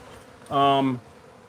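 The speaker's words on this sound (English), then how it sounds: "after any removal, you got a bunch of bees flying around" Honeybees fly around after a hive removal, their buzzing rising into one loud, close drone for about half a second over a steady background hiss.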